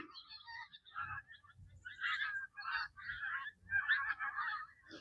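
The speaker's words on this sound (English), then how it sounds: "Big flock of geese." Large flock of geese honking loudly overhead beside a flooded river, with dense overlapping calls in continuous waves and no talk.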